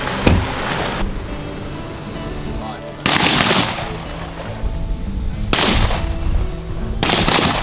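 Loud rifle shots from a SAKO S20 big game rifle at an outdoor range, three or four sharp cracks spaced a couple of seconds apart, each followed by a long rolling echo, with brief talk between them.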